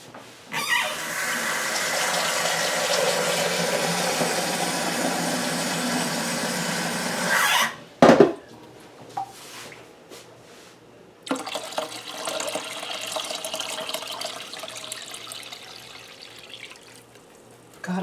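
Water pours steadily into a crockpot for several seconds in a continuous filling rush, then stops with a clunk before a second, quieter pour follows.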